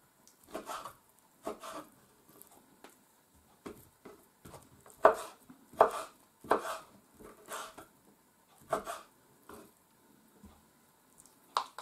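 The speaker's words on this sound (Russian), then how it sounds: "Вот так и режем все." Irregular knife chops on a board as duck meat is cut into pieces, some heavier thuds among lighter cuts, close and sparse, with quiet gaps between.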